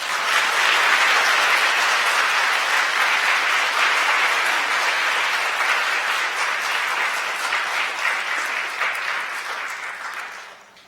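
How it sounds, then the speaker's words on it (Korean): A church congregation at Kyungdong Church's Sunday service gives long, warm applause to welcome newcomers, a dense steady roar of many hands that fades out at the end. "다시 한번 뜨거운 박수로 환영해 주시기 바랍니다"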